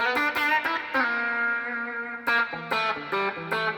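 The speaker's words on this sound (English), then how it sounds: "if I want a more quacky sound, I might go to my bridge or like position 2 and I might use my fingers" Electric guitar notes picked with the fingers on the bridge pickup, bright, twangy and quacky, one note ringing out long before a run of short plucked notes.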